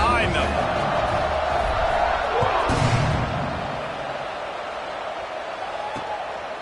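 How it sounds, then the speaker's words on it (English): A football stadium crowd in a college football video game, a loud broad roar that swells for the kickoff and then fades to a softer murmur, with no speech in the clip. "this crowd now ready to get behind them"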